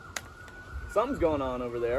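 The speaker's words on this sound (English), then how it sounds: "I hear the sirens." A distant police siren starts wailing partway through, its rising and falling tones under a man's speech and outdoor wind noise.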